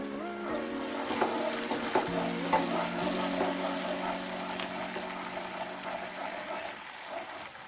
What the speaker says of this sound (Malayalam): നല്ലപോലെ ഇളക്കുക. മീഡിയം ഫ്ലെയിമിൽ ചെയ്താൽ മതി.